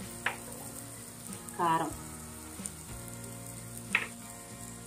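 Spices sizzling and being stirred in a pan of oil for an egg and brinjal curry, a steady near fry with a brief louder burst of sizzle midway and a spoken word at the start.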